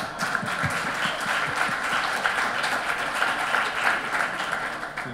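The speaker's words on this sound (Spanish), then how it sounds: "Un aplauso" An audience at a civil-society forum on sustainable development in the Dominican Republic applauds, a continuous dense clapping from a sizable crowd, even and fairly loud throughout.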